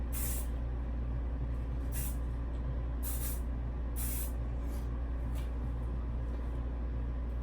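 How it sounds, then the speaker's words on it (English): Hairspray hisses out in several short, sharp bursts about a second apart, over a constant low background hum. "And then just spray."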